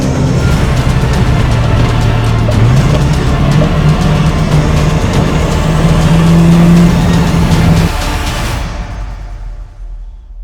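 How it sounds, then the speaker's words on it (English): Mazda RX-7 FD3S engine drones loudly and steadily from inside the car on the Tsubaki Line and Izu Skyline mountain roads near Hakone, with pitch shifts as it pulls through gears, then fades away near the end. "So for the second stretch of the Hakone and Izu driving tour, I'm driving the RX-7 FD3S."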